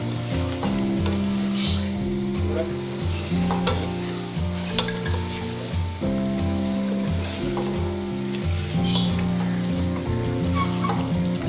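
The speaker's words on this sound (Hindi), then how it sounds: "इसको अच्छी तरह हिला के ताकि सारा मसाला मिक्स हो जाए" Chicken with biryani masala stirred in a pan, a loud, steady sizzle and frying hiss with a spoon scraping through it, while music plays throughout.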